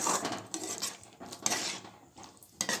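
Pav bhaji masala with lemon juice is stirred in a pan, heard as several close, irregular scraping and clinking strokes of a metal spoon against the pan, with brief pauses between them.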